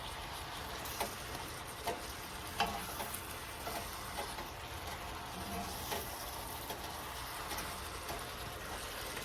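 Apples cooking in butter in an iron skillet over medium heat, a soft steady sizzle with light stirring scrapes and small clicks, fairly quiet and close, with no one speaking.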